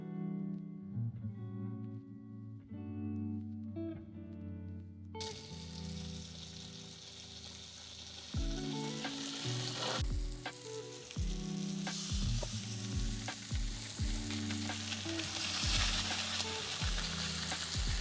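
Salmon fillets sizzle loudly in a hot pan, a bright continuous frying hiss that bursts in after a few seconds of quiet tones, with occasional clanks and scraping of the pan.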